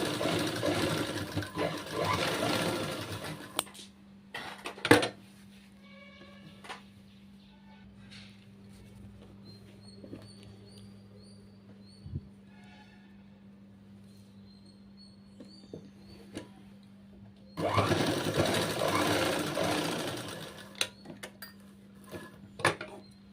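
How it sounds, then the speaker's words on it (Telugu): A sewing machine stitches a lining onto slippery fabric in two loud, steady bursts at the start and end, with quiet handling and small clicks in the pause between. "ఇలా మడిచేసుకొని ఇలా కుట్టాను."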